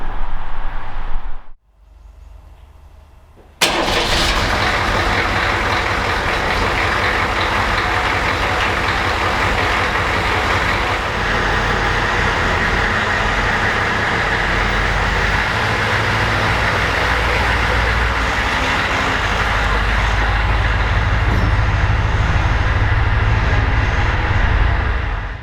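A Ford F250 truck that has sat unused for years cranks briefly and fires up, settling into a steady, loud, close engine run that holds for over twenty seconds with no talking.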